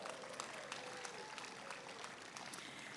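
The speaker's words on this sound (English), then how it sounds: "Big round of applause for that." An audience at a city's state of the city address clapping for the opening of a new community aquatic and senior center, a steady crowd applause heard at a distance and fairly faint throughout.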